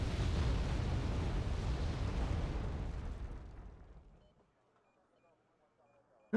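Bombs detonating in the Wargame: Red Dragon video game, a loud rumbling blast that rolls on for several seconds and then fades into near silence, with a sharp crack at the very end.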